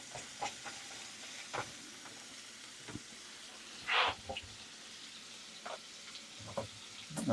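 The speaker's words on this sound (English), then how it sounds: "We're gonna get this all sizzled up." Bacon sizzles in a pan as a cheeseburger quiche is made, a low steady frying hiss broken by scattered crackles and a brief louder steam burst midway, with stirring clicks and no talking.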